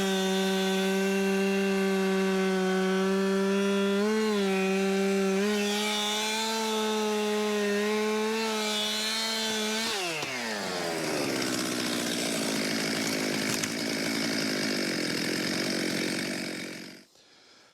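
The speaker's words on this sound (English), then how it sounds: "You did the plunge cut because it was leaning so hard that you wanted to make sure it didn't barber chair" Chainsaw plunge-cutting into a hard-leaning hemlock or white pine being felled, a loud steady engine whine that drops in pitch and roughens as the bar bites into the wood, then cuts off at the end.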